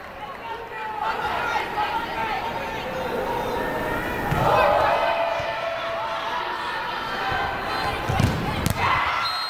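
Crowd cheering in an arena after a Cougar block in a Washington State women's volleyball match against Stanford, a steady roar of fans with ball and shoe thumps, while a commentator talks over it.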